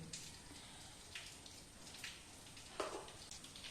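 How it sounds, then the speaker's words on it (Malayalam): Water is poured over taro root as it is washed, giving a faint running, splashing flow with a few louder gushes, close by and heard alone with no talking. "ചേമ്പ് കഴുകി വൃത്തിയാക്കി ആവശ്യത്തിന് വെള്ളം ഒഴിച്ചിട്ട്"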